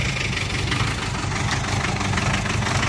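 A 1962 Mercedes L319D camper's diesel engine idles steadily after a cold start, a loud, close, unbroken rumble with a slight knocking texture and no voices.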